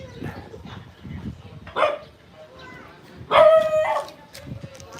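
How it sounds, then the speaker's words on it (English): Dogs along a street on Samal Island in the Philippines let out several loud barks and a drawn-out howling yelp, close and mixed with faint street noise. "There's always a lot of dogs on this street."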